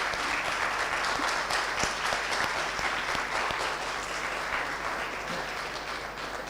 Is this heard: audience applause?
yes